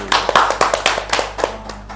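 A few people clap during a podcast recording, roughly eight distinct, fairly close hand strikes at an uneven moderate pace over a low steady hum, with no talk.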